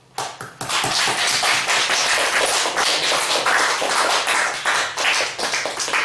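A church congregation claps together during a Sunday service, loud sustained applause filling the room after a brief quiet start and continuing evenly for about six seconds.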